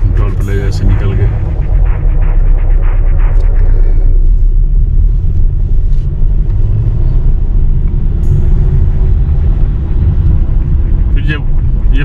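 A car pulls away from a toll plaza onto an expressway, with steady loud road rumble and engine noise throughout and talk running over it.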